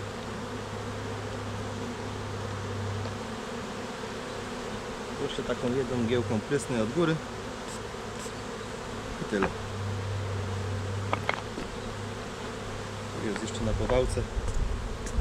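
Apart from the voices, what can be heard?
bees buzzing around a hive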